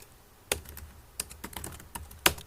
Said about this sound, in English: Let's type in gingerbread